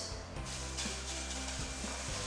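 Gochugaru, sugar, vinegar and salt are stirred together into a Korean kimchi noodle sauce, making a close, steady scraping and mixing with a few soft knocks, alone with no talk.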